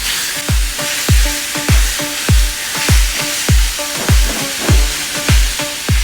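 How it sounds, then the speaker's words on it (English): One pound of ground beef fries dry, with no oil, in a cast iron pan at 350 degrees, giving a loud steady sizzle broken by regular thumping scrapes of a utensil stirring and chopping the meat. "Here you go, 1 pound of the ground beef in the cast iron pan."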